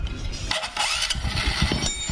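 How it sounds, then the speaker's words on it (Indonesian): Electric starter cranking the engine of a Honda Supra X 125 motorcycle whose wiring had been dead, a steady close whirring grind running through the whole stretch with slight surges, no voices. "Nah, sekarang starter bisa apa enggak? Double starter."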